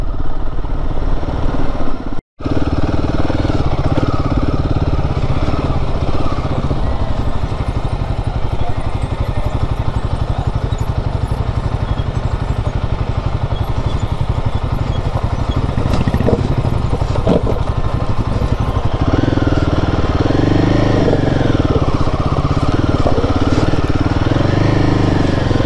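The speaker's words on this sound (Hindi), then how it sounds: "थ्रॉटल 3 हज़ार के बाद तो ये बाइक बहुत ज़्यादा ही तेज जाती है" Royal Enfield Himalayan 450 ridden on an offroad trail, its engine running continuously and loud up close with a steady throttle drone, one brief dropout early on and rising revs toward the end.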